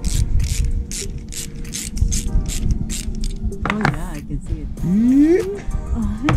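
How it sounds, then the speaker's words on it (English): A clamp is ratcheted tight to pull the gimbal bearing on a Volvo Penta SX sterndrive, giving a run of rapid mechanical clicks and creaks up close, followed by scraping and squeaks while someone talks. "The only thing I'm doing is putting this clamp on."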